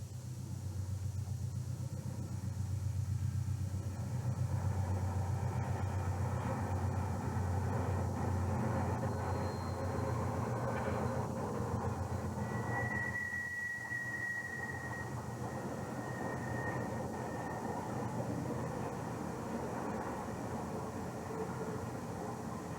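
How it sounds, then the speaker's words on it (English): Amtrak's Southwest Chief climbing an ascending eastbound grade, a deep, steady engine rumble and rolling rail noise heard from a distance, with a brief high squeal partway through and no talk. "Amtrak's Southwest Chief with detouring priority, Q trains, and the ascending eastbound grade combine to create some spectacular action"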